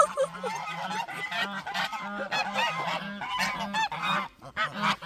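Loud, repeated honking calls from several ducks overlap in a noisy chorus close by at an alpaca theme park in South Korea, with no speech.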